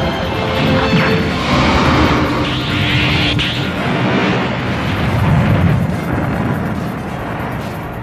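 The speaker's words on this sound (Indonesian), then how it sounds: "Alhasil terjadi ledakan yang sangat dahsyat di planet Raja Kaio" A huge explosion on King Kai's planet in the Dragon Ball Z anime, a loud, sustained roaring blast that crashes and rumbles for several seconds without easing.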